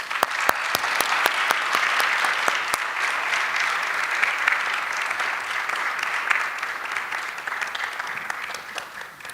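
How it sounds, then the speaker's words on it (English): An audience gives a sustained round of applause for honorees at a formal gathering, dense steady clapping with a few sharp claps standing out near the start. "Let's get one more round of applause for our honorees."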